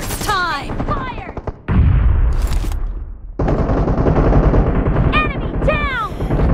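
Gunfire in PUBG Mobile during a team match, with dense bursts of automatic fire at close range, loud and continuous for several seconds, broken by a short pause, while a voice talks over parts of it.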